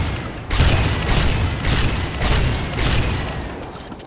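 A shotgun fires in Ghost Recon Phantoms, with several loud, close booming bursts repeating about every half second to a second over a steady rumble, and no talking.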